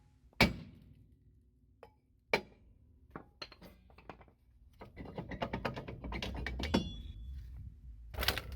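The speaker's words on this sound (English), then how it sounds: "Start by firmly pounding along the edges of the brake drum with a rubber hammer or steel hammer on a piece of wood." Hammer blows on the edges of a Mitsubishi Lancer brake drum, struck through a piece of wood to loosen it: sharp single knocks spaced a second or more apart, then a denser run of clinking, metallic taps, close and alone.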